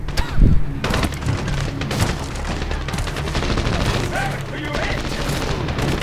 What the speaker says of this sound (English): a dude right behind you shooting directly at your back